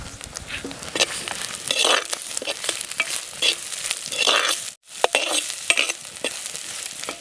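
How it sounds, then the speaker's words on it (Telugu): Onions and green chillies frying with dried prawns in a pan for a gongura curry, a steady close sizzle broken by repeated scraping stirs of a spoon, with a brief dropout near the end and no voices. "ఉల్లిపాయలు ఆ తర్వాత పచ్చిమిరపకాయలు కూడా కాసేపు వేగనిద్దాం"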